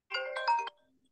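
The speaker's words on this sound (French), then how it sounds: "Attends, excuse-moi, je fais taire mon téléphone." A mobile phone ringtone plays a short, bright melodic phrase of a few quick tones, close and clear for about half a second before cutting off, with no talking over it.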